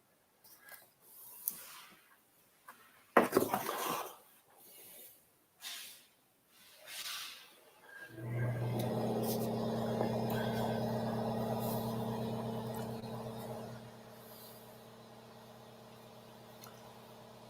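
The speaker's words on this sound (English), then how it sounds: "That is a compressor in the background." An air compressor kicks in partway through and runs as a steady, loud mechanical hum with hiss, after a few scattered knocks and thumps.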